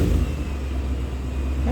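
A supercharged Ford Mustang with a Coyote engine and Paxton 2200 supercharger, roughly 800 hp, with a fuel issue, fires up into a loud, close, low rumbling idle that flares briefly at the end.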